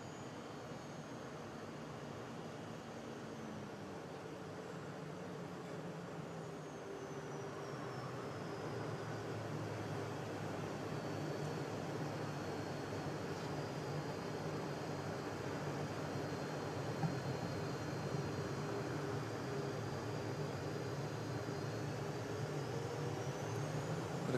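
Airbus A350 XWB on its first flight, turning downwind for final approach and landing, faint distant jet engine rumble and whine that slowly builds, steady and continuous.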